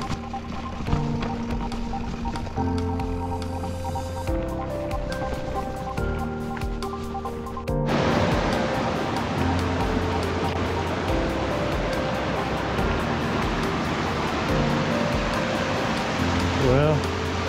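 Crystal Creek flowing in a mountain cirque, a steady broadband rush of running water that grows louder and fuller midway as it comes closer, with a voice speaking over it early on.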